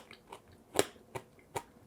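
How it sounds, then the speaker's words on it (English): Browned butter bites mixed with ground beef are bitten and chewed close up, giving a series of four or five short, sharp crunches spaced about a third of a second apart, the loudest in the middle. "Hear that crunch?"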